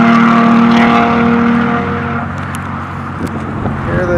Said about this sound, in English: Hear the car trying to prove something.